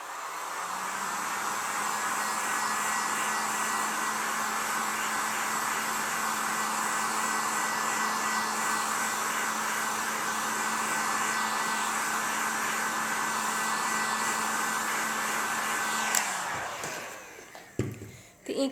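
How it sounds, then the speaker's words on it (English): A heat gun blows hot air over a silk-screen ink transfer, a loud steady whooshing roar that runs continuously for about sixteen seconds before cutting off, followed by a few faint handling knocks. "Heat gun."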